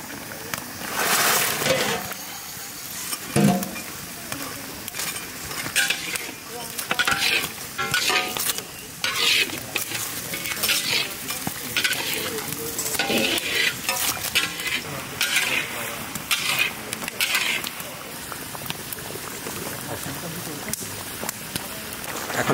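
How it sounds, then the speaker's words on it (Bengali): A large batch of fried pabda fish goes into a sizzling gravy of water, turmeric and salt in a village kitchen. Bubbling and frying continue with repeated scraping stirs, and voices talk intermittently over it. "দিয়ে দেব ভাজা পাবদা মাছ।"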